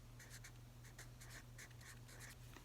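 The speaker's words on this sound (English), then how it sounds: "So I'm going to write it, then I'm going to circle it." Handwriting with a pen on paper, a quiet series of short scratchy strokes in irregular bursts, close and faint over a low steady hum, no talking.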